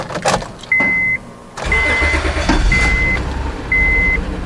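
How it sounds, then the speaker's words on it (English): A Honda Odyssey that loses power and shakes badly, with its check engine light on, cranks and starts, then idles with a low, steady rumble while several short dashboard chimes sound. "So as you can hear, the engine is running"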